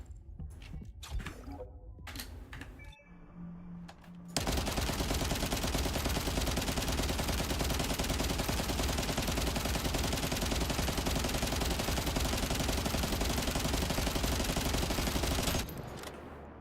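Sustained weapon fire in the video game The First Descendant, a dense continuous rapid stream of shots lasting about eleven seconds after a few scattered sounds, loud and uninterrupted.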